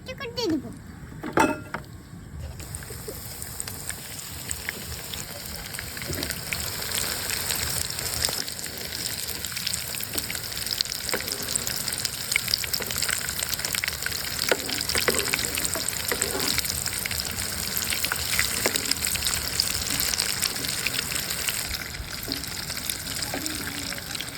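Breadcrumb-coated masala fish fries in hot oil, with a steady, moderately loud bubbling sizzle that holds evenly after a few sharp knocks at the start.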